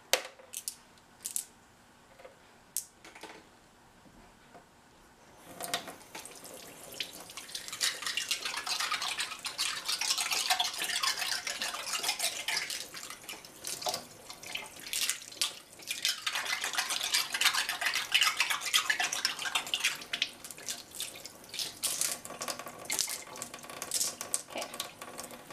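Tap water runs steadily into a sink while small rocks from a snail cage are rinsed under it, starting after a few quiet seconds of light clinks and continuing as a loud, hissing stream to the end.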